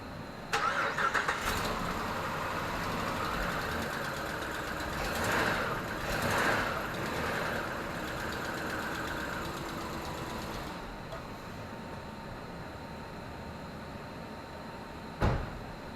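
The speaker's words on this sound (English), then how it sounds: "did you see that motor jumping up and down because that motor mount's broken?" A 2014 Jeep Grand Cherokee with the 5.7L Hemi and a broken left front motor mount cranks and starts, then settles into a steady, close idle that runs on alone, with a sharp knock near the end.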